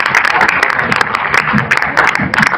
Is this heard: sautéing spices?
no